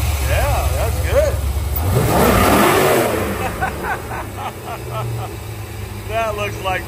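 A 1985 Mercedes 500SEL Euro with side pipes fires up and revs loudly, the engine swelling to a roar then settling to a rumbling idle while people talk over it.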